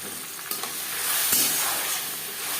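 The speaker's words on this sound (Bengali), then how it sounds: "তিন চার মিনিট মশলা একটু কষিয়ে নেব" Ground ginger, green chili and tomato paste fry in hot oil for a Gobindo bhog rice khichuri, giving a loud continuous close sizzle with soft stirring scrapes and a brief swell of hissing.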